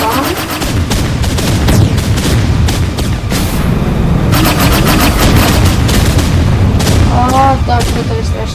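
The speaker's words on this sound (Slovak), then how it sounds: "Uním sa strelám." Rapid machine-gun fire and booming explosions in a video game boss fight, loud and continuous throughout, with brief electronic tones near the end.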